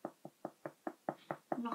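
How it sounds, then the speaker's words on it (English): Eight light, evenly spaced knocks on a door, close and fairly quiet, with nothing else heard between them. "Knocking on the door."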